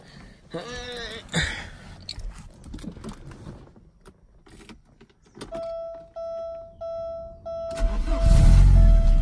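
A Porsche 944 being started after power steering belt work: a starter crank catches and the engine fires up, followed by a steady idle with a repeating tone, then a louder rev near the end.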